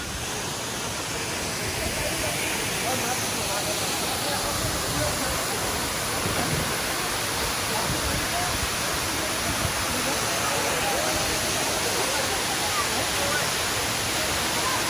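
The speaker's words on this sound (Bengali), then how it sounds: "এই পাহাড়ি ঝর্ণা" A hill waterfall at Kaptai gives a steady, dense roar of falling water. It stays loud and unbroken throughout, with no other sounds standing out.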